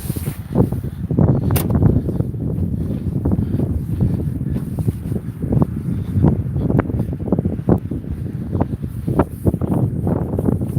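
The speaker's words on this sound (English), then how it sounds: "Sure, you can hear the wind." Strong wind buffets the microphone outdoors near the water during a walk, a constant loud rumbling roar with gusty swells and no talk.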